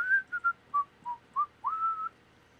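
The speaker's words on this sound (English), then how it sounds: "We're going to whistle a happy tune." A person whistles a cheerful melody alone, a string of short separate notes ending in one longer held note, close and clear.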